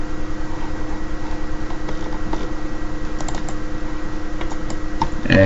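Someone types a URL on a computer keyboard in a rapid, steady run of clicking keystrokes over a constant electrical hum, with a louder clack at the end.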